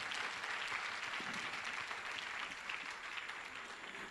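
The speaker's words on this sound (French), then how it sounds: "Est-ce qu'on peut acclamer le Seigneur?" Church congregation applauding in acclaim of the Lord, steady, dense clapping from many hands throughout, fairly soft and unbroken with a slight fade near the end.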